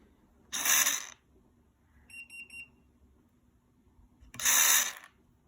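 An IKEA ROTHULT electronic cabinet lock whirs briefly as its bolt moves when a key is used, then gives a quick series of high beeps, and the motor whirs again a few seconds later.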